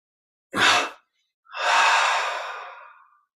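Deep breathing during guided meditation: a short sharp inhale, a pause, then a long, loud exhale that fades out, close to the microphone with no talking.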